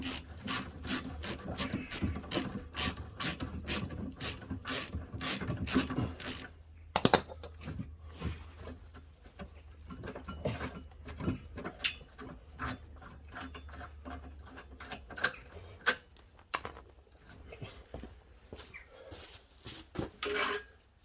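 A wrench works the last tow bar bolt loose on a Crafter/Sprinter campervan, with repeated ratcheting clicks and scraping metal taps in irregular bursts, close and moderately loud, with no voices.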